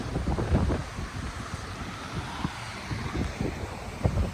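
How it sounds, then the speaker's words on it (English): Strong, cold wind at the Lake Michigan shore in Chicago buffets the microphone in a steady low roar with gusty swells, with no voices heard. "It's very, very windy and cold, but exciting."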